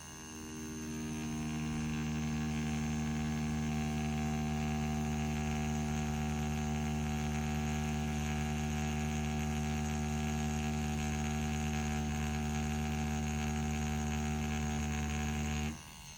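A Dragonhawk Mast Racer Pro tattoo machine runs on soft mode, giving a steady, even electric hum that starts after a second and cuts off just before the end.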